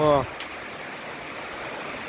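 Heavy rain drums on the roof of a house with a steady, rushing hiss, and a brief voice speaks at the very start.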